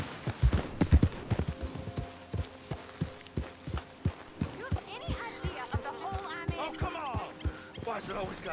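Horse hooves clip-clop in a steady walking rhythm in the Western video game Red Dead Redemption 2, close and distinct, with a voice talking over the first part and faint background sounds later.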